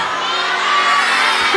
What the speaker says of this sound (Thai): เชียร์กันหน่อย ครับ